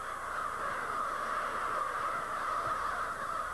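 Crows call in a dense, steady chorus as a winter flock gathers at its night roost in a small wooded patch of an industrial park beside downtown, the cawing blended and moderately distant.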